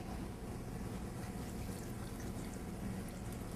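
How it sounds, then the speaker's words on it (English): Brewed tea pours steadily into a punch bowl for a citrus, sugar and cognac punch, a soft continuous liquid rush that stays faint and even throughout with no talk. "So first I'm going to add the tea."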